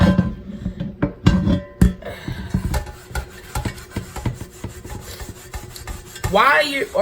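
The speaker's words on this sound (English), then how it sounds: "So we're going to scrub it all the way down." Abrasive rubbing and rasping of a cast iron skillet being scrubbed down for re-seasoning, in uneven close strokes with a few sharper scrapes, then a brief tonal squeal near the end; no talk.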